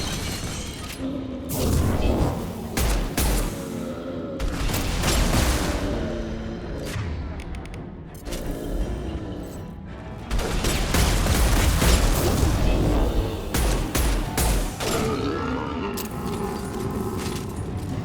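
Rifle fire in the Mass Effect video game comes in repeated sharp bursts of shots and impacts, loud and close, broken by brief lulls amid clattering battle noise.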